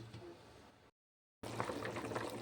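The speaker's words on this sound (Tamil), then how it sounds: "தண்ணி நல்லா கொதிக்குது." Water boiling in a pot for chicken biryani with jeeraga samba rice, a steady bubbling hiss that cuts out briefly to silence and then returns louder and fuller.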